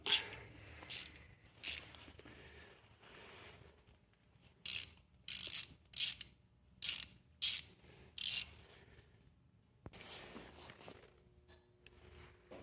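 A ratchet socket wrench working stubborn bolts loose on a Tecumseh H50 small engine, sharp clicking bursts in short irregular runs with quiet gaps between, close and fairly faint, no speech.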